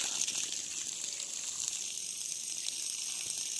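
Water rushes from the 2-inch delivery outlet of a BLDC solar pump running on a single 445 W panel at a fish farm. The hiss is steady and close, with no talking.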